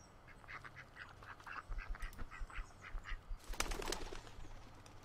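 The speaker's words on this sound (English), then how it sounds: "And I can't sneak up on a duck" Quiet duck quacks from the video game Bear Simulator, a rapid series of short nasal calls repeating over several seconds, with a brief flurry of wing flaps or splashing near the end.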